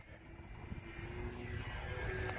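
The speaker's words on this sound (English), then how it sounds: "Last takeoff! Better be a good one." E-flite Air Tractor electric model airplane taking off outdoors, a continuous buzzing motor and propeller drone that holds steady and rises slightly over two seconds, moderately near, with no one talking.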